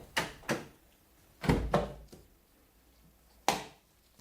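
Several sharp mechanical clicks and thunks in quick pairs from a BMW E46 Coupe's central door lock with a faulty door latch, then a single click, with quiet gaps between them and no talking.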